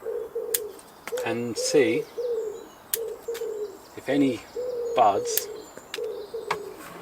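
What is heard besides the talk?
pigeon cooing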